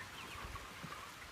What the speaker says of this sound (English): here are the broiler chickens